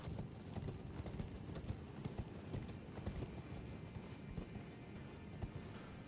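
Quiet, rapid hoofbeats of a horse in the video game Elden Ring clatter steadily, like trotting or galloping, with a faint background hiss.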